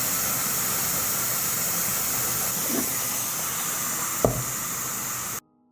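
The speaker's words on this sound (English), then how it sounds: "I will adjust the pressure so that the pressure cooker reaches a temperature of 120 Celsius" A pressure cooker holding preserving jars at about 120 °C gives a steady, loud hiss throughout, with a faint knock partway and a sharper clunk near the end before the sound cuts off.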